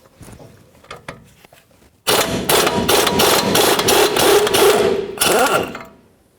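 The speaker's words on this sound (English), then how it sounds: "I got a 23mm socket on there, 1/2" air gun" Half-inch pneumatic impact gun driving a 23mm socket through an impact swivel on a 1997–2004 Dodge Dakota control arm: a loud, continuous rattling hammer burst of about three seconds, a short gap, then a final brief burst, after quieter clinks of tools.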